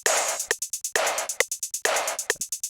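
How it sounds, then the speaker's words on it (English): A heavily distorted vocal chant sample, pitched down in an FL Studio trap beat, bursts out in three short gritty phrases with crisp hi-hat ticks and punchy hits between them, loud and close. "it has like this really nice distorted chant that I like to use,"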